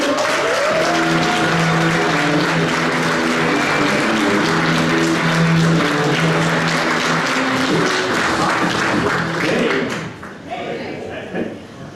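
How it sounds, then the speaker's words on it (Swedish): Loud, sustained audience applause fills a stand-up comedy show at Gasta, with music playing underneath, before the clapping thins out near the end. "En stor, stor applåd för Ted Branteri!"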